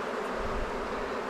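Honeybees buzzing during a hive inspection, a dense, steady hum of many bees close by, continuous and even with no talk over it.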